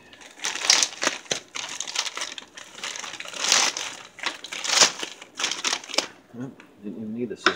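A thick plastic bag holding a men's medium Old Navy peacoat is pulled open and crinkled close by. The crackly rustles come in irregular bursts, and a few brief voiced sounds appear near the end.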